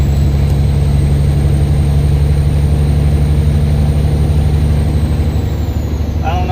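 An 18-speed log truck rumbles steadily from inside the cab on a ride, a deep continuous engine drone with a constant high whine above it, loud and unbroken throughout.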